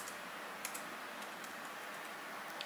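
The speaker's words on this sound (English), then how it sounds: "if I want to switch back to the computer, I press that one and I'm back to typing" Light, scattered key clicks from typing on a computer keyboard, a few sharper taps standing out over a steady background hiss, with no voices.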